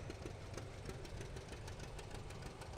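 The engine of a 1956 John Deere 60 tractor idles after the throttle is pulled back, giving a faint, steady, rapid knocking rumble with an even rhythm, heard from some distance at an outdoor parade of power.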